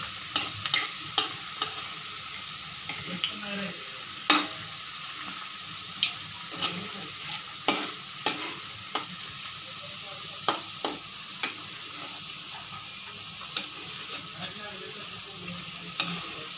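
Mung dal vadas fry in hot oil with a continuous sizzle while a utensil flips and scrapes them, giving repeated sharp clicks over the hiss.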